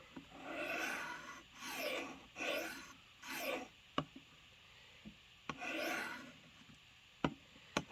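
A knife is drawn across a Work Sharp field sharpener in about six slow, rasping strokes, each a soft scraping rub, with small taps and clicks between passes, close and quiet.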